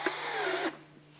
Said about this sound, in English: Gently put your screws in.